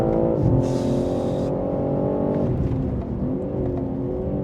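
BMW M3 Touring engine pulling hard on a race circuit, a loud sustained drone whose pitch climbs and then shifts through gear changes, heard from inside the car with no talk.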